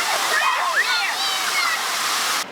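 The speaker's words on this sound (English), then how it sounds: "It must be at least 100 liters of water, I guess, per second, really. It's like a waterfall." A large fountain at the Opera House in Ukraine pours and splashes in a steady, loud, broadband rush like a waterfall, while a voice talks faintly under the continuous water.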